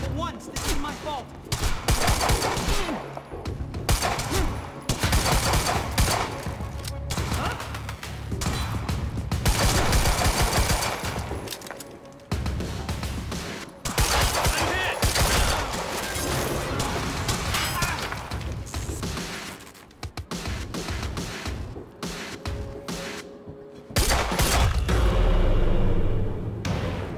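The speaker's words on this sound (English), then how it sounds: "You heard the gunfire." Bursts of rapid gunfire and impacts in the video game Quantum Break, loud and near, with dense volleys, crashes and brief gaps, occasional voices mixed in.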